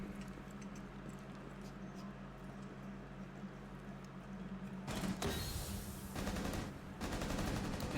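Gunfire in a tactical shooter video game: after a stretch of low background hum, two bursts of rapid automatic shots ring out, fairly quiet and mixed into the game's ambience.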